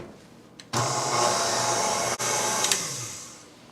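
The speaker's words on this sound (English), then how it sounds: "I'll give that a mix." An electric mixer whirs steadily through cake batter with salt, soda and vanilla extract for an Italian cream cake, starting abruptly, holding a loud even hum with one brief dip, then trailing off.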